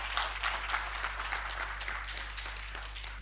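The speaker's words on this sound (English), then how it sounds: "please, a round of applause for Izzy and the great presentation." An audience claps after a conference talk at Devconnect Buenos Aires, a steady wash of applause heard from within the room that fades slightly toward the end.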